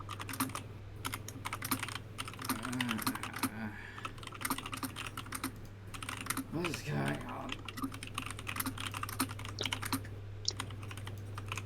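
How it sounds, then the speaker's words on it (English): Rapid, continuous clatter of keys on a computer keyboard runs throughout, close and steady, with a steady low hum and a brief spoken question mixed in. "we can hear your typing sounds"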